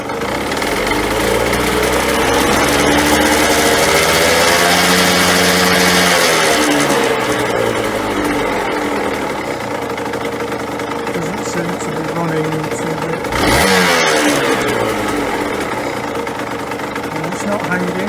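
Small engine running at idle while its idle speed is being adjusted, a steady close drone that dips and rises slightly as it settles, with a brief bump in revs near the end; no talk over it.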